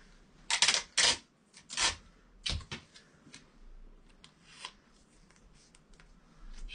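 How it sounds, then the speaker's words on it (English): Tape pulled and pressed to join two coloured paper plates in a craft project, heard as a run of sharp ripping and crinkling bursts up close, loudest early on and then sparser, with no talking. "and we're going to tape them together."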